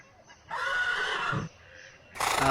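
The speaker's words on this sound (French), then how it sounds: "Ah mon fidèle cheval." A horse whinnies loudly and close in two shrill, quavering bursts separated by a brief lull.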